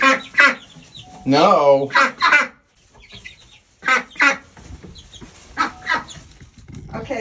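Chickens cluck loudly and close in a pen newly shared with ducks, with a few wing flaps among the bursts and a brief spoken word between them.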